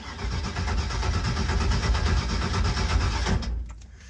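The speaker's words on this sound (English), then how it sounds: "The jump pack can't turn it over fast enough to draw any fuel." A weak jump pack turns over a fuel-starved carbureted engine whose carburetor has run dry, giving a steady, loud, rumbling crank for about three and a half seconds before it stops and goes quiet.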